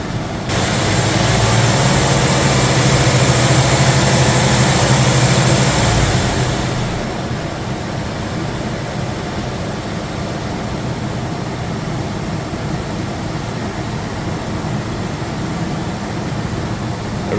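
A Nissan Pathfinder R50 engine held at raised RPM during a battery load test, a steady loud drone and roar that eases down to a lower idle-like hum partway through and continues evenly.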